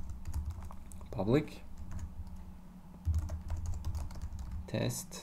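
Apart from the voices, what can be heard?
typing code on a computer keyboard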